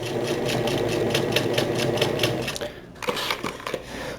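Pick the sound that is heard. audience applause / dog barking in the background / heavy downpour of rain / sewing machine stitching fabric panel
sewing machine stitching fabric panel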